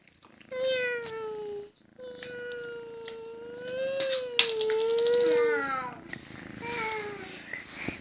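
A pet cat meows repeatedly at close range, with long drawn-out cries and a few shorter calls, heard alone with no speech.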